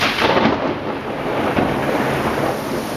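Rain and rolling thunder in a Moscow storm with hurricane-force squalls: loud, near rumbles swelling and fading over a steady downpour, without voices.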